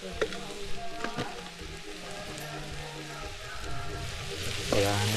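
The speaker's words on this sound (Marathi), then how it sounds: "असं मस्तपैकी परतवून घ्यायचं आहे आता जरा हे शिजू दे" Misal masala with turmeric and salt being sautéed in a pan over a wood-fired stove, giving a steady close sizzle with faint scraping and a louder stir near the end.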